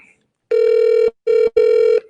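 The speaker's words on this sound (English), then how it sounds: "I want to make a phone call for a second." A telephone rings back on an outgoing call: three steady electronic tone bursts, the first long and the next two shorter, loud and clear with no talk over them.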